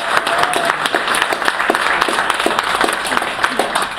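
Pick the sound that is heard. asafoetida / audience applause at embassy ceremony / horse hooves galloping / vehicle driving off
audience applause at embassy ceremony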